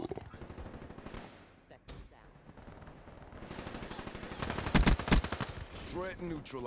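Gunfire in the video game Black Ops 3, with bursts of rapid, punchy shots rising to a loud cluster near the end, heard over a steady game backdrop and some talk.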